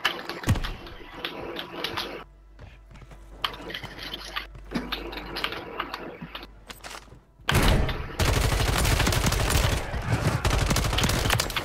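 Bursts of video game gunfire from Call of Duty: Warzone 2.0 on Rebirth Island crackle in rapid volleys, with a dense, sustained stretch of fire toward the end.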